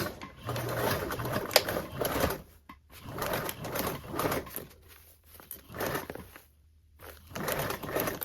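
Stitching a toiletry bag seam at a 3/8 allowance, a sewing machine whirs in close bursts, stopping and starting several times with brief pauses between runs.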